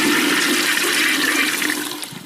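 A toilet flushes with a loud, close rush of water that roars steadily for about two seconds and then begins to taper off, with no other sounds.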